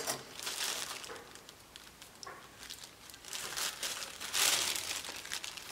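A plastic bag of small parts crinkles and rustles as it is handled and pulled open, in irregular close bursts that grow louder toward the end.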